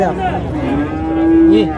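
A single ox at a livestock market gives a loud, close, drawn-out moo lasting over a second, rising and bending in pitch, with faint market background beneath.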